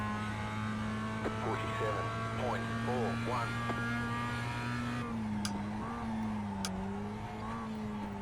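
Mazda MX-5 race car lapping Oran Park South, a steady in-car engine drone holding near-constant pitch with slight dips under braking, with a person talking over it throughout.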